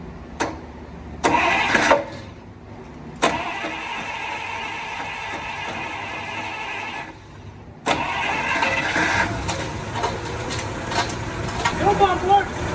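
A 1952 Pontiac engine that sat for 40 years, now on a new fuel pump and new fuel lines, cranks in short bursts. It then catches and runs with a steady mid-pitched idle, loud and close, and a voice is heard briefly.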